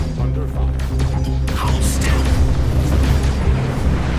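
An enemy ship firing on the player's ship in the space game Star Citizen, AEGIS Gladius Valiant fighter: a steady, loud stream of booming impacts and blasts over a rumbling engine drone, with brief sharp hits scattered throughout.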